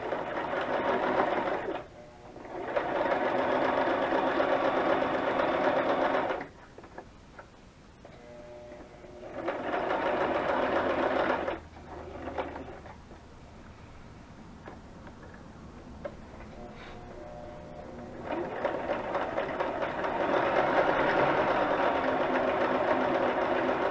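A sewing machine stitching around a junk journal tag runs in close rapid bursts of ticking stitches, stopping and restarting several times with quiet handling sounds in the pauses.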